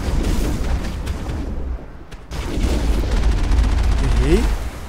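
Gunfire in the video game Mass Effect: loud bursts of shots and booming impacts over a low rumble, broken by a brief lull before the firing resumes heavier.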